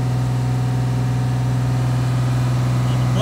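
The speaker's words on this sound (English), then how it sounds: "It's very hard to warm a diesel up just sitting here idling." Diesel engine of a 2012 Ram 2500 idles steadily at close range, a continuous low, even drone with no variation across the short stretch.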